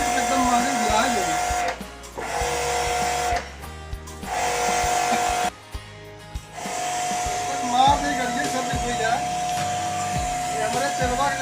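An AC service pressure washer machine runs with a loud, steady whining hum that cuts out briefly several times and then restarts, while voices talk over it.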